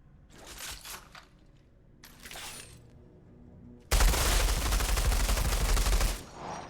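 Pistol gunfire in the video game Outriders: two sharp shots with short tails ring out, followed by a loud sustained barrage of heavy fire lasting a couple of seconds before cutting off.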